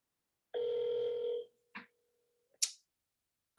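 A phone ringback tone while calling someone: one steady tone lasting about a second, then a faint lingering hum and a few soft clicks, with no voices.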